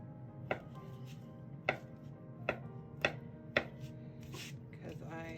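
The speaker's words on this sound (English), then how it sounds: "I'm just going to cut these ones into chunks." Potatoes being cut into chunks on a board for the air fryer: five crisp, evenly spaced knife strikes, close and clear, over a low steady background hum.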